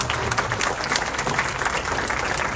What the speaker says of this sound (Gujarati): તાળીઓ સાથે